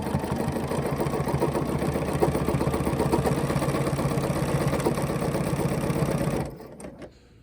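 A sewing machine stitches a quilt with ruler work, a steady mechanical whir with a fast needle rhythm running close and continuous before it stops near the end.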